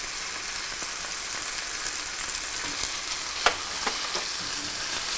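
Garlic and ginger fry in a pan with a steady, fairly loud broadband sizzle and a few sharp clicks of stirring, and no one speaking.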